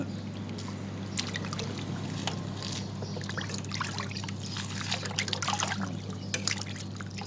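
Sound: pouring cold water into pot of pork

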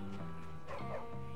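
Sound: dog barking in the video game Bully

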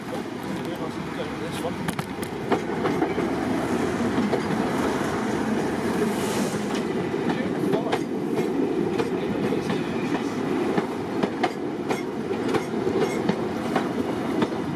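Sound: Colas Rail class 37 diesel locomotive test train arriving

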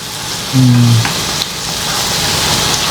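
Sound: sautéing masala in a pan for crab curry

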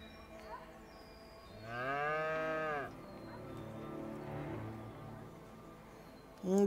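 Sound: cow mooing in the video game A Way Out

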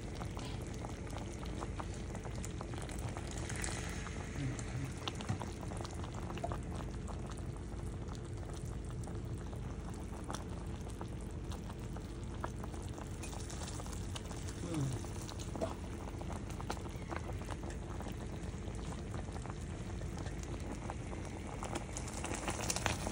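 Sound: sugar syrup boiling for pistachio candy

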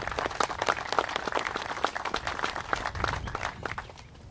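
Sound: audience applause for Colonel Lance Koenig

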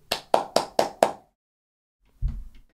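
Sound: hand clapping

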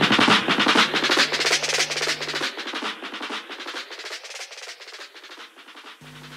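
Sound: drum sounds with delay echo effect, reggae dub style

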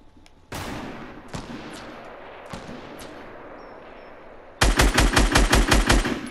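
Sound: gunfire in a video game

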